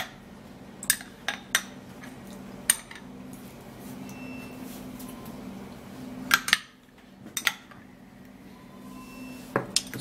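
A spoon stirs a Vaseline, onion and oil hair mixture in a bowl, producing scattered clinks and scrapes against the bowl over a quiet background.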